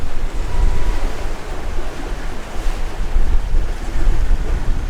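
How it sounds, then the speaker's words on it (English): A sailing catamaran motors through gentle waves off Cape Hatteras, with continuous rushing water and wind buffeting the microphone, and a low rumble under the surf noise. "So we are motoring around Cape Hatteras."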